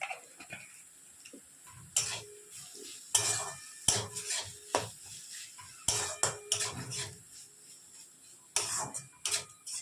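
A spoon stirring a pan of banana-flower curry with prawns as garam masala and ghee go in, loud metallic scrapes and clanks in irregular bursts between quieter pauses, close up.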